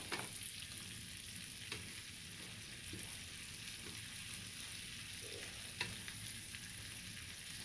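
Potatoes and onions frying in a skillet, giving an even, soft sizzle with occasional scraping and tossing sounds from the pan, steady and close with no talking.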